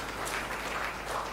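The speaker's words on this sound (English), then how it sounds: "Could we have a round of applause for him," Audience at a tourism summit in Chennai applauds a speaker, a steady wash of clapping holding at even loudness through the short stretch with no voices on top.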